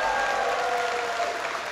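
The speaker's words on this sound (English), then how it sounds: "Give them a big round of applause." An audience at a political speech claps steadily throughout, a dense even wash of applause from a large crowd with no pauses.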